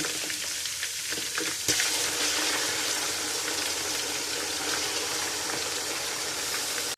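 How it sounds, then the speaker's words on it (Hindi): Mutton pieces fry with garlic-ginger paste in a pot, giving a close, continuous hissing sizzle, with a brief clatter of stirring near the start and no voices. "अब इसको हम करेंगे 10 मिनट तक फ्राई"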